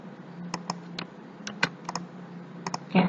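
Keys clatter on a computer keyboard in a run of separate, crisp taps spaced irregularly, ending in a quicker cluster of keystrokes, close and clear with no talking.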